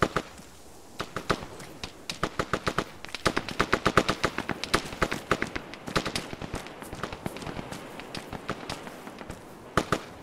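Rapid bursts of automatic gunfire in a tactical military shooter game, dense sharp cracks repeating steadily throughout, with occasional single shots between bursts and no talking.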